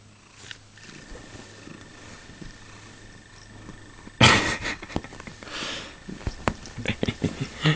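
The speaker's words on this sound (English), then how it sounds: "I love filming my cat, Corkey." Pet cat purring close to the microphone, a low continuous rumble at first, then louder snuffly, rough bursts and growly breaths that pulse irregularly toward the end.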